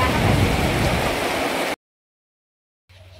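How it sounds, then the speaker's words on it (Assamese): Steady, dense rain pours down loudly for a couple of seconds, then cuts to silence before a faint return of background noise. "বৰষুণৰ কথা কওঁতেই অলপ পিছত বৰষুণটো পেলালে।"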